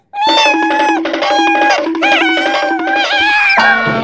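A cartoonish cat meows several times in a row, bright and close with a steady low hum beneath, from a clown costume play skit at a park.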